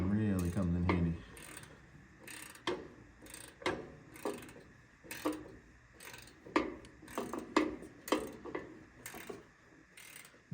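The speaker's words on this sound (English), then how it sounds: "Super long ratcheting wrench from Tecton really comes in handy." A long Tekton ratcheting wrench clicking on bolts of an overheated Detroit Diesel 8V92TA engine in a Wanderlodge, a brief tonal hum at first, then repeated close bursts of ratchet clicks with short pauses between.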